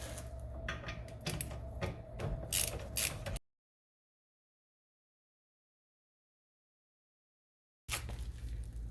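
A ratchet cranks loose two 17 mm bolts on the brake of a 1996-2000 Honda Civic: quick close-up clicking bursts, a silent gap, then the ratcheting starts again.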